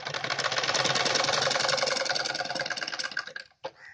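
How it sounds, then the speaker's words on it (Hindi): A sewing machine runs steadily, stitching all around the folded edge of a suit neckline, a loud continuous rapid rattle that slows and stops near the end, followed by a brief click. "पूरे को सिल के तैयार कर लूँगी चारों तरफ से"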